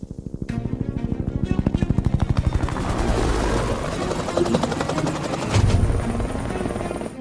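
Loud helicopter rotor thumping in a fast, steady pulse, close overhead, with engine whine and rumble building through.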